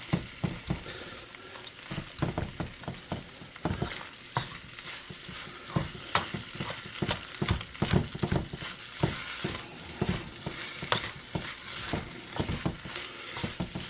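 Special fried rice sizzles in a pan as a ladle presses and scrapes it down, giving a continuous loud frying hiss broken by frequent sharp clattering stirs.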